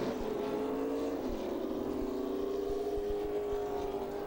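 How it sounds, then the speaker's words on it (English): About ten NASCAR Camping World Truck Series trucks roll onto pit road during a 2009 race, a steady blend of engine drone and sustained tones from several trucks at once, moderately distant under a constant wash of track noise. "around 10 trucks coming back onto pit road"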